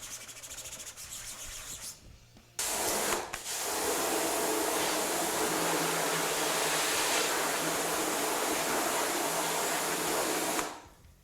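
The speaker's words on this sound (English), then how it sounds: "so we'll use the pressure washer" A pressure washer sprays a screen printing screen during ink cleanup, a loud steady hiss that cuts out briefly, resumes for about eight seconds, and stops abruptly.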